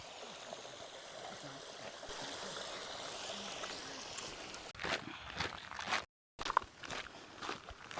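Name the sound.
running water of a small waterfall at Malham Cove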